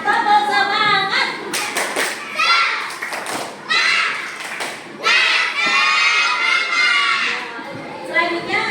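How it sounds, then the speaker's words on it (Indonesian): A primary-school class of children performs a rhythmic spirit clap, tepuk semangat, in an Islamic religious lesson: bursts of group clapping and thumps mixed with loud children's chanting voices, close and lively throughout. "Mau menyemangati kalian dulu dengan tepuk semangat."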